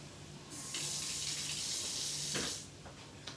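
Kitchen tap water gushes loud and close into a sink as a fork is rinsed, pouring steadily for about two seconds before shutting off, followed by a faint clink.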